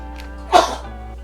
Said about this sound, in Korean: 갑자기 기침이